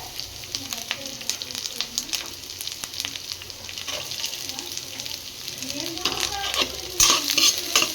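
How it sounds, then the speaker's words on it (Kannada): Onions and slit green chillies, along with curry leaves, fry in a pan with a steady crackling sizzle while a spatula stirs and scrapes at intervals, growing a little louder and busier near the end. "ಚೆನ್ನಾಗಿ ಫ್ರೈ ಮಾಡ್ಕೊಳ್ಳೋಣ"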